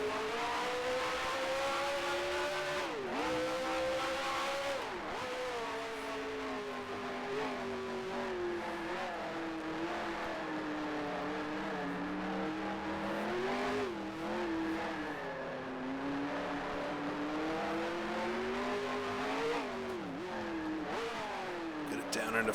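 Brabham Grand Prix race car engine in Grand Prix Legends, a steady loud rasping drone that rises and falls with shifts and revs, some sharp dips on downshifts, continuous throughout without talk.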